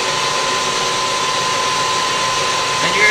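A machine runs to cut a screwdriver blank, giving a loud, steady, high whine with an even hum and a faint scraping sound near the end.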